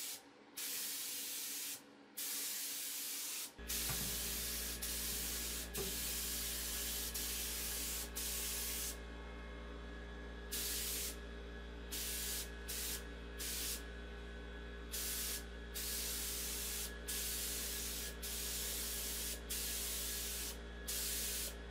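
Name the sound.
spray gun painting inside of furniture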